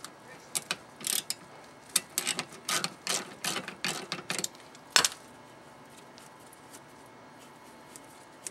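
A ratchet loosens 12 mm rear brake caliper bolts on an Acura RSX / Honda Civic, giving several close, bursty runs of sharp clicking followed by one louder metallic knock, then quiet.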